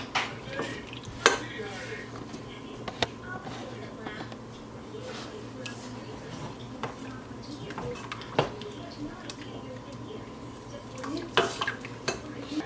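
A spoon stirs a pepper and garlic mixture in a pan, making soft scrapes and scattered sharp clinks against the metal over a low kitchen background.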